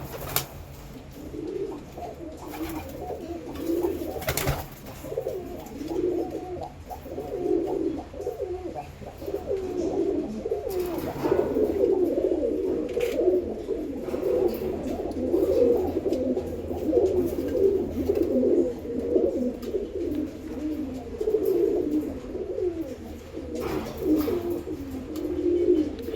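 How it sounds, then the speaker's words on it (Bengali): Male pigeons in a breeding loft coo continuously in soft, throaty, rolling phrases, several birds close by, with a few faint knocks in the background. "এই যে নর পায়রাগুলো দেখে কী করছে"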